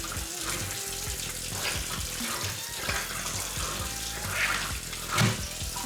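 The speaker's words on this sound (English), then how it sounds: "Run me some warm water." Warm water running steadily from a kitchen faucet into a clogged sink, a continuous splashing rush with a few gurgles and bumps near the end.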